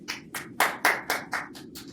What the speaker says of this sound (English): Can we get a round of applause for these two?